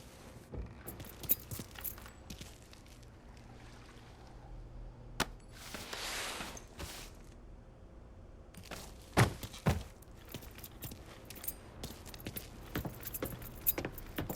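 Keys jingle and rattle in Mafia 3, with scattered close metallic clinks spread over a quiet ambience, along with a few soft thunks and a short swell of noise midway.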